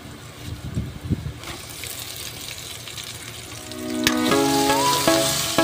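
Chopped lechon pieces sizzle and crackle in hot oil in a pan, a steady frying hiss that grows louder near the end, with some light clinks of utensils.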